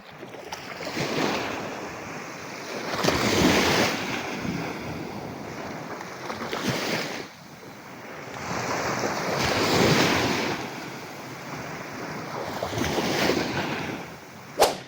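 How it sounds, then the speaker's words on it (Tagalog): Ocean waves roll onto a beach at La Union, swelling and breaking in slow repeated surges about every six seconds, loud and close with wind noise on the microphone and no talking. "Sarap sa tenga yung pakinggan yung mga alon."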